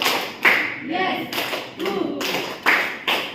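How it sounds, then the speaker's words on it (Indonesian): A group claps in a counted classroom pattern, sharp bursts of hand claps arriving in uneven clusters between stretches of a voice talking. "Tepuk satu, tepuk dua, tepuk tiga"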